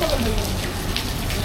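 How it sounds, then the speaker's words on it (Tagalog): Rain pouring outdoors in Cozumel, a loud, constant hiss of heavy drops close by, with voices faintly mixed in. "Nabutan kami ng ulan."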